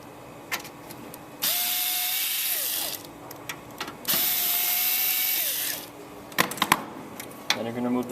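Two long bursts of a cordless power screwdriver remove the screws holding a CD drive in a Dell PowerEdge 1800 server, each whirring for over a second with a rising pitch, separated by small clicks and handling noises.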